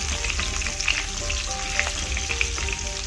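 Marinated shrimp frying in a pan, a steady close sizzle with popping crackles and occasional stirring scrapes, no voices.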